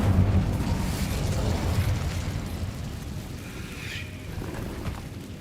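The Incendio fire spell in Hogwarts Legacy makes a steady, roaring whoosh that holds for several seconds, fairly loud and close, then tapers off a little toward the end.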